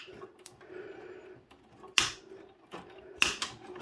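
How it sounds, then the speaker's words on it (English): Snips cutting through copper wire pulled from an amplifier, giving two sharp, close metallic snaps about a second apart, with quieter handling and rustling between them. "Satisfying sound of the snips going through the copper."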